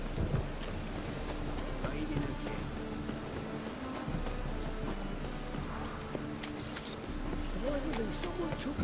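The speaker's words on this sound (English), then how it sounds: "Nice bit of a rainstorm." Steady rainstorm in The Witcher 3: Wild Hunt, a continuous wash of falling rain with low rumbling beneath, running the whole time under talk and game music.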